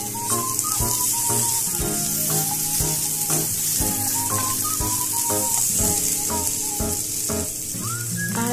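Ginger and chili for a fish curry fry loudly in a pan, a dense continuous sizzle with occasional stirring clatter and no voices.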